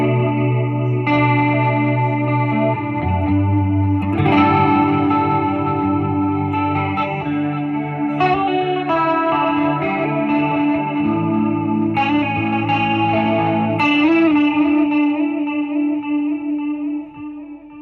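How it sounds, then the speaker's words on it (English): Electric guitar played through a Milkman The Amp 50-watt amplifier with a chorus pedal, sustained shimmering chords and swelling notes ringing continuously with a wide, wavering, ambient tone, loud and alone. "add a chorus."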